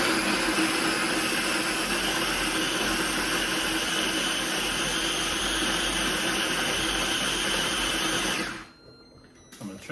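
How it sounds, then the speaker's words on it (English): A food processor minces onions in a steady, loud whir that holds for about eight seconds, then cuts off, leaving quiet room tone. "putting them into the food processor, and I'm going to mince them up pretty good"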